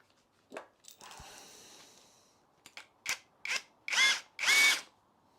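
A cordless drill whirs in a series of short bursts, growing louder and longer toward the end, with quiet pauses between them.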